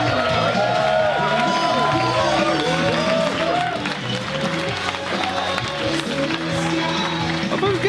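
A theatre crowd at a UK wrestling show cheers and applauds loudly and steadily, a dense roar of many voices and clapping with individual voices shouting over it.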